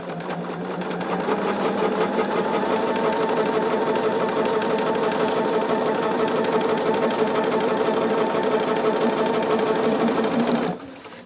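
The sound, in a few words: sewing machine sewing quilt block corners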